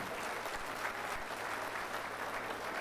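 An audience at a mushaira, an Urdu poetry gathering in Doha, Qatar, claps steadily in dense, even applause throughout, with no pauses.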